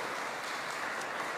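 Church congregation applauding during a bilingual First Holy Communion Mass, a dense, even patter of many hands heard as a short continuous burst.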